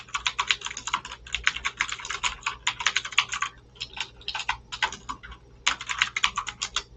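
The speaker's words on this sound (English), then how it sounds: "A lot of keyboard, right?" Rapid typing on a computer keyboard, dense clattering keystrokes in quick bursts with brief pauses, close and steady, with no voices.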